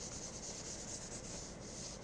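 A cloth wiping and rubbing over a wooden piece to lift off lint and dust before sealing gives a steady, soft, close scrubbing hiss that runs unbroken with no talk.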